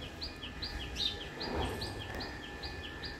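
Morning birds chirp in quick repeated high tweets, a steady series of clear calls over a soft background hum.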